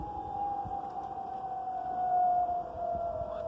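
A long wailing siren like a war or air-raid warning holds one steady, slowly falling tone, continuous and fairly loud against a low rumbling background.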